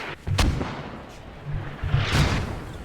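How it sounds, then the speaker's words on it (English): Explosions in the military video game Squad: two heavy booming blasts about two seconds apart, rumbling against a constant low battlefield background. "Explosions now going in."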